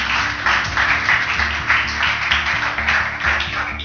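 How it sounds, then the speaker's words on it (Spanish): Congregation applause during a Spanish-language church service, a steady, moderately loud wash of clapping with a low musical or room hum underneath. "le damos un aplauso"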